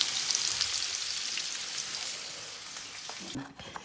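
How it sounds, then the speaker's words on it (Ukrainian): Chopped meat pieces sizzle in a hot pan for chanakhi, a close and steady frying hiss that carries on throughout, with faint movement near the end. "І просмажуємо його."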